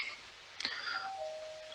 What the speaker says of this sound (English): Doorbell just rang.